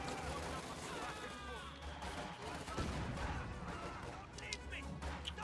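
Mortar fire in the Company of Heroes 2 video game, thumping blasts buried in a dense, continuous wash of battle noise with scattered gunfire throughout.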